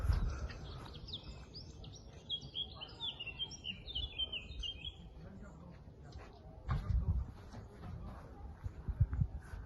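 Birds chirp and tweet in quick repeated bursts in a hobby garden, clearest early on, over low outdoor noise and occasional nearby thumps and rustling.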